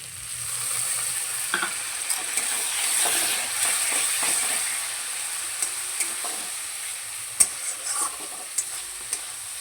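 Masala for a katla fish head curry with potatoes fries and is stirred in a pan: a steady close sizzle runs throughout, broken by irregular sharp scrapes and clicks of the spoon, with no voices.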